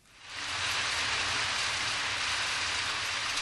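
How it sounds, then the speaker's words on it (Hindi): Cartoon rain sets in within half a second and pours steadily as a dense, even hiss of falling drops, with no voices over it. "आओ देखो, बारिश हो रही है।"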